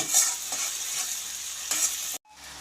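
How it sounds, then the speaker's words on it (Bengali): Ginger-garlic paste goes into onions already fried red, and the pan sizzles loudly and steadily with a few scraping stirs before a brief cut to quieter frying. "এবার আমি এতে আদা রসুন বাটাটা দিয়ে দেব।"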